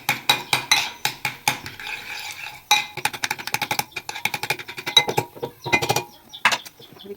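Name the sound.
mixing garlic into tomato chutney in a pan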